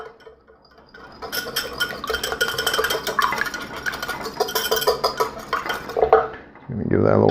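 Quinoa and black bean salad dressed with lemon juice being tossed in a bowl, giving a busy run of scraping and clinking utensil sounds, moderately loud and steady, with a brief louder rustle at the end.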